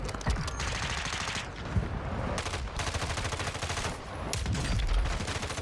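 Dense automatic gunfire in the video game Warzone 2, bursts of rapid SMG and rifle shots from more than one direction, loud and continuous with brief gaps.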